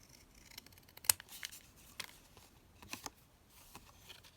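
Scissors trim paper for an altered file folder belly band, giving a handful of quiet, crisp snips spaced irregularly over a few seconds with no talking.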